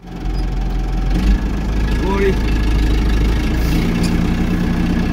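A tractor engine idles steadily and fairly loud on a farm where an electric fence is being put up for sheep, a low rumbling drone throughout, with someone speaking briefly over it.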